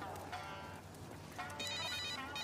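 A telephone ringing indoors in a comedy scene, its bell tones sounding in short repeated bursts at moderate loudness over a faint background.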